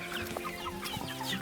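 Chickens in a Plamondon-style chicken tractor cluck in short, close calls over a steady farmyard background, with no talking.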